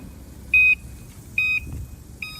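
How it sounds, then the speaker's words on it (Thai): Three short electronic beeps, evenly spaced, from an electric bicycle's turn signal, clear and close over a faint low background hum. "เวลาเลี้ยวทีก็จะมีเสียงดังแบบนี้"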